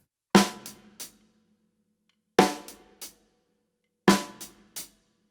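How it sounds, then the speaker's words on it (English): Drum groove with three sharp snare accents, each followed by two quick 16th-note hi-hat strokes, spaced about two seconds apart with silence between, close and alone. "after every snare accent stroke, I play a double hi-hat stroke afterwards in 16th notes"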